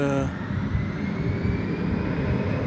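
A jet airliner's engines roar steadily at DFW airport, a loud, broad, continuous rumble with a rising whine that dominates throughout.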